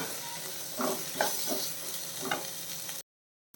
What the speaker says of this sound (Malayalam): നമ്മുടെ തക്കാളി ഇട്ട് കൊടുക്കാം കുറച്ച് കറിവേപ്പില പച്ചമുളക് ഇതെല്ലാം കൂടെ ഇട്ടിട്ട് ഒന്ന് വഴറ്റണം